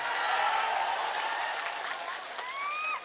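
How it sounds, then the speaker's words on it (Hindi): A crowd at a political rally in India applauds loudly and continuously, with dense clapping filling the air for about three seconds as a voice begins to speak over it near the end. "एक बार आप अपने लिए ताली बजाएं"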